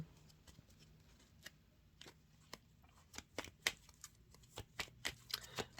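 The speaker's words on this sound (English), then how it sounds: "I'm still shuffling now." Tarot cards being shuffled by hand, a quiet close run of crisp riffling snaps that starts sparse and grows denser and louder toward the end, with no talk.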